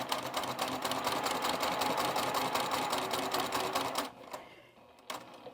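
A sewing machine fitted with a quarter-inch foot stitches a fabric square edge to edge in one steady, rapid run of needle clatter, then stops, leaving a couple of faint clicks. No voices.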